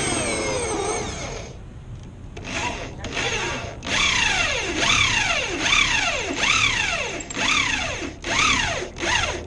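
A power drill whirs in repeated short bursts, each spinning up and winding down, with a few pauses between runs, during roof work. The drill cannot run in reverse.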